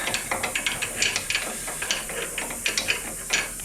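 A ratchet wrench tightening a nut on a woodworking setup, a close run of rapid clicking pawl ratchets in short repeated bursts, with a faint hiss underneath.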